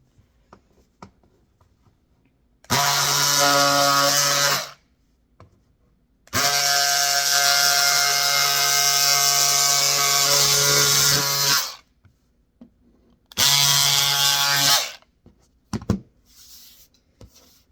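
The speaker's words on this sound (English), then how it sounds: "take my handy dandy electric scissors, because that's just what I use, and I cut off all the extra around my seams" Electric scissors trimming excess fabric around shirred seams on a sewing project, buzzing in three separate bursts of a few seconds each, the middle one longest, close and steady with quiet pauses between.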